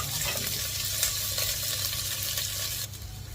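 Onions and beef cubes browning in a pan for beef bulalo, a steady close sizzle with faint scraping and stirring throughout, no talking.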